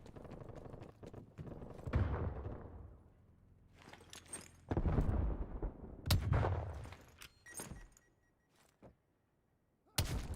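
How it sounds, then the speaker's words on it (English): Artillery shells striking the player's position in a video game, several heavy booming impacts spread out with quieter gaps and sharp cracks between them. "Artillery got me."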